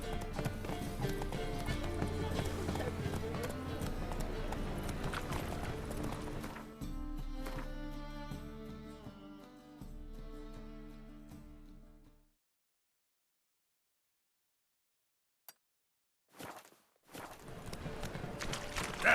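Hooves of Roach, the horse in The Witcher 3, clip-clop in a quiet, steady trotting rhythm for several seconds before fading into silence, broken later by a few short bursts of sound.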